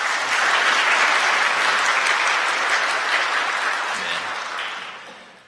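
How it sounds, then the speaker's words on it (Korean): Warm, full applause from a church congregation during a Sunday worship service welcoming newly registered members, steady and even before fading out at the end. "여러분들 환영의 박수 부탁드립니다"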